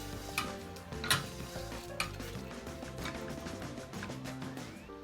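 Bourbon cooks down and sizzles steadily in a pan, a soft continuous frying hiss with occasional stirring clicks, close and fairly quiet.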